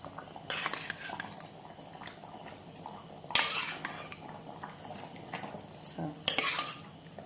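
Fried fish pieces go into a pot of boiling taro curry amid metal spoon and pot clatter, with three loud bursts of scraping and splashing between quieter stretches, no talk.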